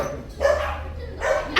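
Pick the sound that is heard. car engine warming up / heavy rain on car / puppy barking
puppy barking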